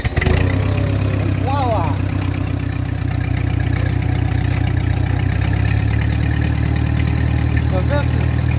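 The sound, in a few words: Ford 8N tractor engine starting and idling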